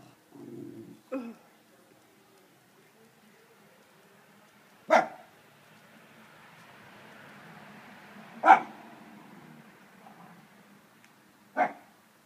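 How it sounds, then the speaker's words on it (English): Three separate dog barks, spaced several seconds apart, with faint muffled sounds and quiet in between. "What are you barking about?"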